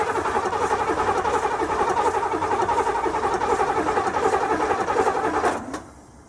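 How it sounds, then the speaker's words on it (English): A 1984 Corvette V8 cranks over steadily on a newly installed starter, a loud rhythmic churning that runs evenly for several seconds and then cuts off abruptly. "cranking over good"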